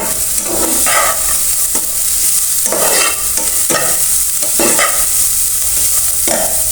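Chopped potato, long beans and carrot are stirred in a hot frying pan, loud and close, with repeated scraping strokes every second or so over a constant sizzle.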